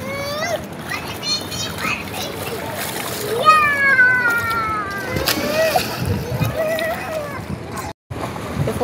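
A small child splashes about in a hotel swimming pool in Bengkong, Batam, with choppy, repeated splashes and sloshing water up close, while children's voices chatter and squeal over the top.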